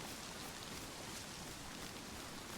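Steady rain falls in the survival game DayZ, a continuous broadband hiss of drops on surfaces with no distinct individual hits, moderately quiet and unbroken throughout.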